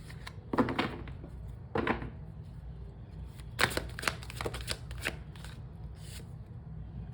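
Several bursts of a deck of cards being riffled and shuffled, crisp rapid flutters separated by short pauses, close by with no talking.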